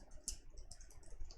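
Quiet, rapid clicks of typing on a computer keyboard while coding, a loose run of soft taps close by with no voices.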